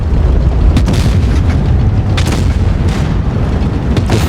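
A tank cannon shot in World of Tanks Blitz, the Foch 155 firing HEAT, booms loudly and fills the whole clip with a dense roar and several sharp bursts.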